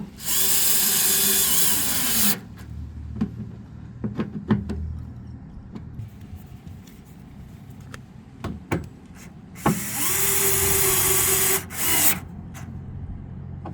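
A Snap-On Nano access driver runs down T15 fasteners in two short high-pitched whirring bursts, with clicks and handling knocks in between, close up.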